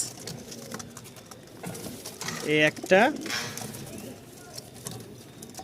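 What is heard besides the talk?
pigeons cooing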